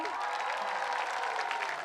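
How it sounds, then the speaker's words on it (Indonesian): Steady applause from a crowd, dense and continuous clapping throughout, with faint crowd noise mixed in. "Beri tepuk tangan untuk Cair sekali lagi."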